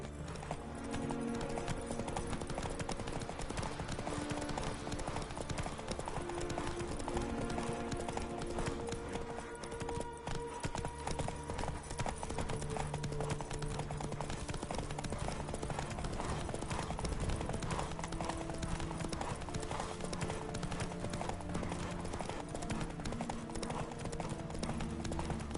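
Roach, Geralt's horse in The Witcher 3, gallops with a continuous, driving clip-clop of hooves that carries evenly through the whole stretch under a dense game soundscape.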